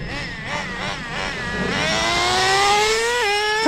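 Traxxas Slayer PRO 4x4 nitro RC truck engine revving up through its two-speed gearbox, a loud buzzing whine that climbs steadily in pitch with a brief dip and shift near the end, close and continuous.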